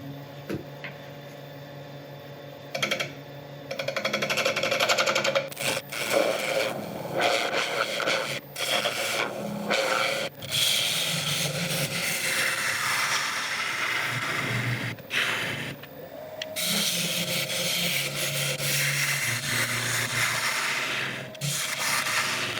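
A wood lathe spins an epoxy resin bowl blank at about 800 RPM, the tool scraping and rubbing in a steady textured hiss broken by short pauses and shifts in contact, close and moderately loud.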